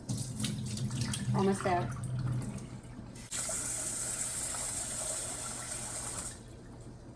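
Tap water runs into a sink full of soaking rice, a steady splashing gush up close; a brief spoken phrase comes over it early before the flow surges louder and then eases off.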